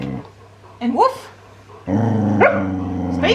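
A dog gives a couple of short, rising barks or yips close by, with a low hum and background noise between them.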